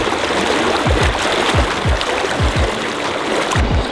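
A mountain trout stream flows steadily through a burn-scarred valley, a continuous broadband rush of water close by, with a few low thumping buffets breaking through now and then and no talk.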